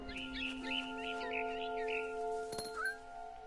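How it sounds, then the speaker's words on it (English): Barn swallow chirps and twitters in quick bursts over a soft steady electronic hum, fairly close and moderately quiet, in the video game What Remains of Edith Finch. "Then I heard chirping outside my window. It was a barn swallow going back to her nest."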